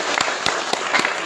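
A church congregation claps together during a sermon, a steady wash of applause with sharper individual claps standing out, filling the room throughout.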